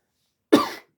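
A single short, sharp human cough, close and alone in quiet, with a brief rough tail.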